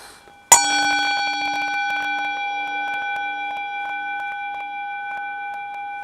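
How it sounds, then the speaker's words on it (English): A meditation gong struck once, with a sharp attack followed by a long, steady ringing tone that fades only slightly over several seconds, loud and heard alone with no speech. "So here's the gong."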